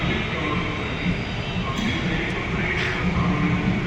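A metro train runs at Jagruti Nagar metro station, producing a loud, steady rumbling roar with a constant broadband hum throughout and no clear break.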